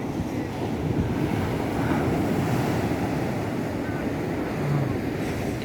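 Heavy surf breaks steadily along Haeundae beach in Busan, facing the Westin Chosun hotel side, as a dense, continuous roar of crashing waves mixed with wind buffeting the microphone.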